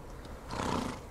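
A mustang horse in the Western game Outlaws of the Old West gives a short, faint neigh that swells over about a second.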